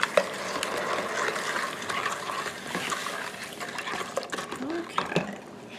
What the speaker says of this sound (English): I need to stir it and bring it to a boil that literally can't be stirred down